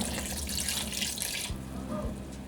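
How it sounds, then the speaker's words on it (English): Water pours steadily into a pot of seafood okra soup with jumbo prawns, a close, continuous splashing rush that stops partway, leaving faint bubbling and light clinks. "I'm going to go ahead and add in some more water"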